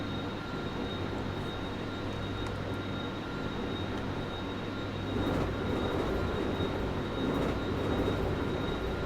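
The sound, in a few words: electric metro train motor whine in Hmmsim Metro video game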